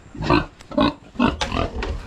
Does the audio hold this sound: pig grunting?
yes